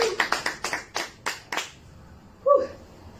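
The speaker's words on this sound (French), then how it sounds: "Applaudissez votre Seigneur." Congregation clapping during a church worship service, a run of about eight sharp, separate hand claps in uneven rhythm fading out, followed by a short vocal sound.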